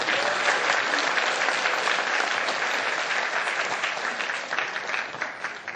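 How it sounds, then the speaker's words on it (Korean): Loud, sustained applause from a large audience at a Democratic Party presidential candidate lecture, dense clapping filling the whole stretch with no break. "박수 치셔서 그래요."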